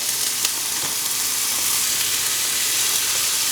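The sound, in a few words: bacon sizzling as it goes into the frying pan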